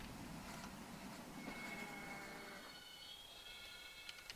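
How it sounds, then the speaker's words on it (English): Brake sounds of a heavy 2-10-2 steam locomotive on jointed rail in the Trainz simulator, a faint, continuous rumble with squealing metallic tones and a few clicks near the end. "It has jointed rail brake sounds again."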